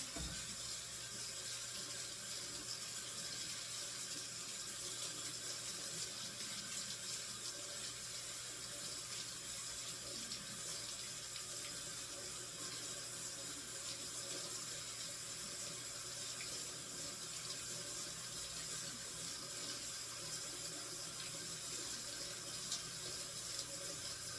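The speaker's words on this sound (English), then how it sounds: "Let me just rinse my hands, got a little too much stuff on here." A kitchen tap runs steadily while hands are rinsed under it, a constant close hiss of flowing water with no pauses or voices.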